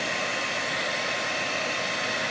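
A blow dryer on high heat roars with a loud, steady, airy rush, running continuously and close by with no other sound.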